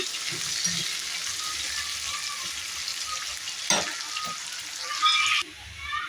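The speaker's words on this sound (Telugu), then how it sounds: "ఆనియన్ బాగా ఎర్రగా ఫ్రై అయ్యేదాకా ఫ్రై చేసుకున్నాము" Sliced onions frying in oil in a pan for a tomato brinjal curry give a steady, fairly quiet sizzle with faint stirring clicks, a brief louder scrape near the end, and no talk.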